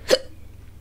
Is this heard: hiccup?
yes